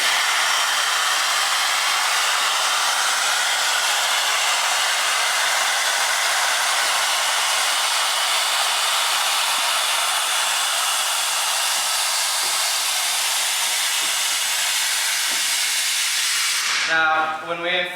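A ferry-flight survival life raft inflates with a loud, continuous rushing hiss of gas lasting many seconds, then it cuts off abruptly near the end as a short burst of other noise follows.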